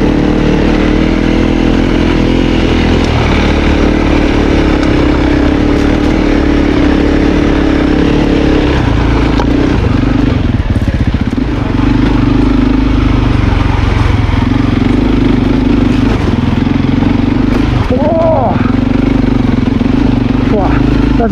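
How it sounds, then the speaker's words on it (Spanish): Trail motorcycle being ridden off-road in enduro terrain, its engine straining under load with a continuous droning hum, loud and close throughout, while people talk over it. "Está sufriendo la moto, tú"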